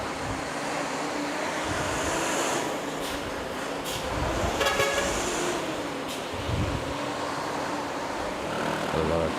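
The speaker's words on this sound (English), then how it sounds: "A lot of trucks" Street traffic near Manila rumbles steadily with passing trucks, and a short car horn toot sounds midway while a person talks over the noise.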